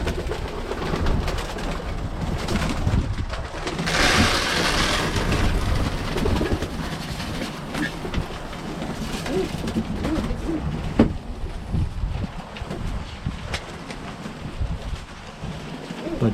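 Birmingham Roller pigeons coo softly amid a steady background wash during feeding, with occasional rustles and thumps nearby and no speech.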